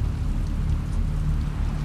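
Heavy rain pours in The Last of Us Part II, a dense, loud, steady roar with a low rumbling undertone that continues unbroken and without any voices.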